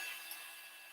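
A heat tool blows steadily from underneath a card, melting embossing sprinkles for a baroque snowflake mandala; a constant airy hiss holds at even loudness throughout, close and alone.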